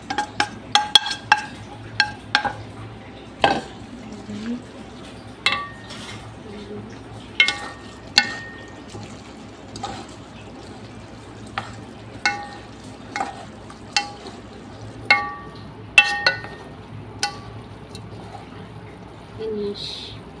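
Chinese shrimp pasta is stirred and tossed in a pan, with repeated scraping clicks of the utensil against the metal over a low, steady sizzle. A faint voice may be present.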